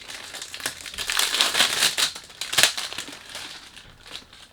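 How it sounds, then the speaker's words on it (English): Tight plastic wrap crinkled and peeled off a perfume box by hand, close crackling and crumpling bursts that rise and fall irregularly, with no voices. "It's quite hard to get the plastic off."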